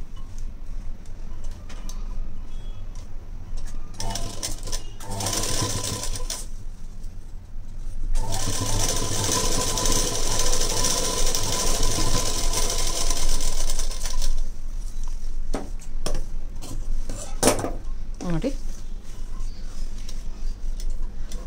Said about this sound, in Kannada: ಇದನ್ನು ಮೇಲ್ಗಡೆಯಿಂದ ನೀಟಾಗಿ ಹಿಂಗೆ ಫೋಲ್ಡ್ ಮಾಡಿಕೊಂಡು ಸ್ಟಿಚ್ ಮಾಡಿಕೊಳ್ಳೋಣ